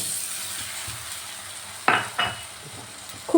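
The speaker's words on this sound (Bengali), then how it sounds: "মশলাটা তো ভালো করে কষানো হয়ে গেছে এবার দিয়ে দিচ্ছি একটু জল" Water poured into mustard spice paste that has been frying in a pan, giving two sharp sizzling bursts near the middle and another at the end over a quiet low background, with no talking.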